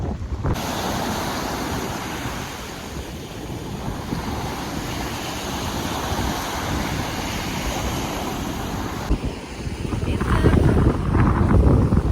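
Sea surf rolls steadily onto the Odesa coast with wind buffeting the microphone, a continuous broad wash that swells louder near the end.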